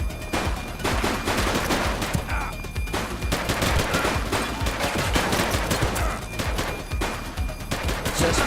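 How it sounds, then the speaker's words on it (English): Rapid gunfire during a police shootout in the video game The Precident, dense bursts of loud shots cracking repeatedly over several seconds, close and continuous. "Shots fired."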